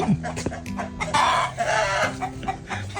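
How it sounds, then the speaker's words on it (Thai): Chickens cluck and a rooster crows in a coop on a rural Thai farm, loud close fowl calls layered over one another with little talk. "นี่เป็นบริเวณของคอกไก่"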